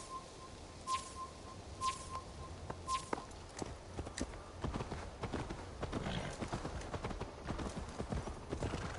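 Hooves of a horse in Assassin's Creed Valhalla clip-clop in a steady walking rhythm, growing busier and closer, with a few short chirps early on.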